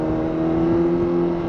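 A Honda CBR 1000RR motorcycle engine drones steadily with a near, constant tone while riding downhill on a rough, sandy road, with no clear revving changes across the short stretch.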